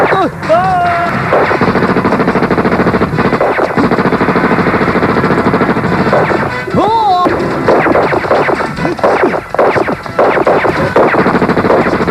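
Rapid bursts of loud gunfire crackle continuously, mixed with heavy booms while people shout over the barrage, in a 2004 Indian television serial.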